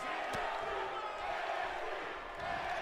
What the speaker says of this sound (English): Crowd on fire tonight.